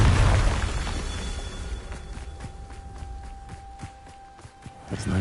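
A Confringo blasting spell in Hogwarts Legacy goes off with a loud, deep boom at the start that fades into a low rumble, followed by light, regular step-like taps.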